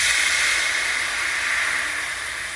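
Red wine poured into a hot pan of garlic and rosemary while cooking ribeye, giving a steady, loud broadband sizzle and hiss that fades slightly over a couple of seconds, with no talking.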